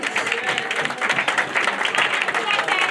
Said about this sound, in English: Let's get a massive round of applause.